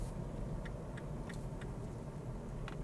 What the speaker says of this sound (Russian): мне нравится, как едет этот мини-купер